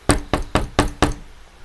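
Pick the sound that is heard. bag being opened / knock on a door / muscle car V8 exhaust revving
knock on a door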